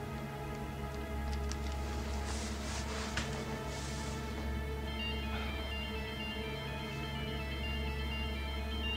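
A mobile phone ringtone plays faintly somewhere upstairs, a soft melodic tune under a steady low hum, with no one speaking.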